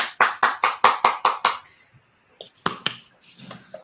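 A short run of about seven crisp, evenly spaced hand claps welcoming a guest onto a security discussion show, followed by a pause and a few scattered claps, with faint voices in the gap.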